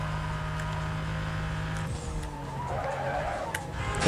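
Race cars in the 2005 video game Need for Speed: Most Wanted skid and squeal their tyres over a steady engine drone, the skid rising midway, loud and close with no talking.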